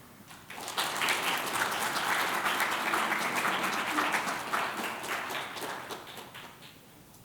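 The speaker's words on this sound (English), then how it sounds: "we're going to give her a big round of applause anyway" Audience applause for an award winner at the Twenty in Their 20s event: dense, steady clapping from a crowd that swells in quickly and holds for several seconds before tapering off.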